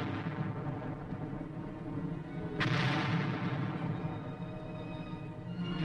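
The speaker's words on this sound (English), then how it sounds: "155 howitzers fire a sharp warning at the advancing Chinese" Howitzer artillery, 155 mm, fires during the Korean War: a single sharp, heavy boom cuts through a dense, continuous rumble of battlefield noise, then fades back into the roar.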